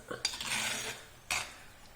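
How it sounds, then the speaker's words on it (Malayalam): A spoon gently stirs fish curry in a pot, making two soft scraping strokes against the metal, close and fairly quiet, with no talking. "മീൻ പൊട്ടാണ്ട് പതുക്കനെ ഇളക്ക"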